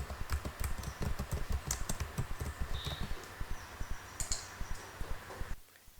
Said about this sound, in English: And here I want to type their achievement score.